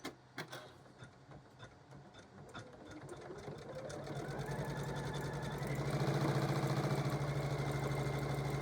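An embroidery machine stitches an in-the-hoop appliqué quilt block, starting with a few scattered clicks and then settling into a fast, steady mechanical whirr that grows louder and runs on continuously, close and alone.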